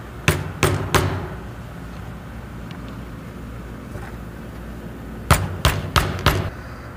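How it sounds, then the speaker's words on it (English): A hammer tapping metal tuner bushings into a cigar box guitar neck, two bursts of sharp knocks, three quick taps then a pause, followed by four more taps, close and distinct in a quiet workshop. "I'm going to tap these bushings in"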